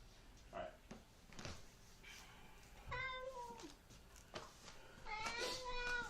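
A house cat meows several times, fairly close, with a quiet room behind it and a voice speaking now and then between the cries.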